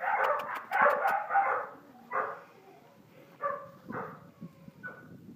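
A dog barks several times up close, sharp yaps followed by softer yips and whimpering sounds, with quieter gaps between the barks.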